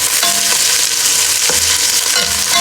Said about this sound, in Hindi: गरम करके तो फिर प्याज उसमें शामिल करेंगे।